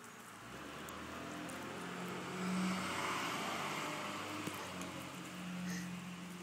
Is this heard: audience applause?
no